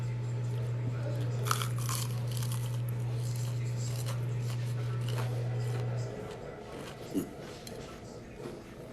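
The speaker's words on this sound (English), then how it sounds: "I'm gonna come close to the camera so y'all can hear this crunch." Crunchy bites of Southern plant-based fried tofu chewed close to the microphone, a few crisp crackles over a steady low hum that drops away partway through, followed by quieter mouth sounds.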